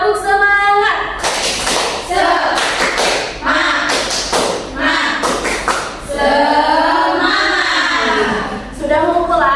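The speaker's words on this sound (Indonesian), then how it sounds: "coba kita tepuk semangat dulu yuk" A class of children claps a rhythmic spirited cheer in a classroom. The sharp hand claps fall in patterned groups, mixed with children's chanting voices, and the sound is fairly close.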